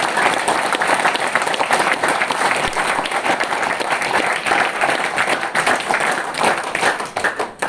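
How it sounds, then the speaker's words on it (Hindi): An audience claps in sustained, dense applause at a gathering, many hands patting steadily for several seconds, loud and close, fading slightly at the end. "तो अर्जुन के लिए तालियां।"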